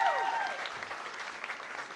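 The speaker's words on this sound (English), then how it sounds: "round of applause" A studio audience claps in a brief, steady round of applause that fades slightly toward the end, with a trace of voices underneath.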